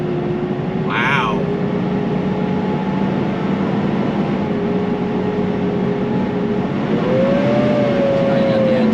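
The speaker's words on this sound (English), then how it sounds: "Now you got the engine spooling up." A 2023 Ford Super Duty truck's engine drones steadily with a rising whine that climbs near the end as it spools up going downhill, heard from inside the cab with constant road noise.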